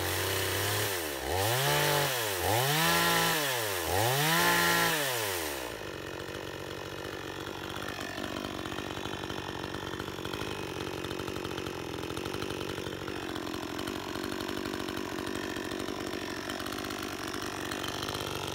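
A 52cc Chinese clone chainsaw revs loudly several times in quick rising-and-falling sweeps, then drops to a steady, buzzing idle that carries on for many seconds.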